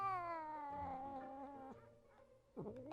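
An angry cat yowling in the video game Scott Whiskers, a drawn-out wavering caterwaul followed by a sharp rising yowl, faint but clear with no talking.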